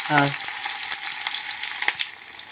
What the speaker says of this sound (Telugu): జీలకర్ర వేసి నూనె హీట్ అయింది, జీలకర్ర వేసుకోవాలి